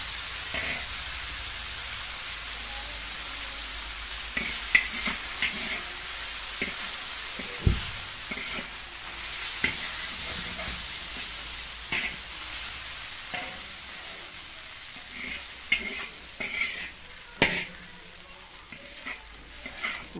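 Pasta being stirred and fried in a pan, a soft continuous sizzle broken by irregular scrapes and clinks of the spoon against the pan, fairly quiet and without talk.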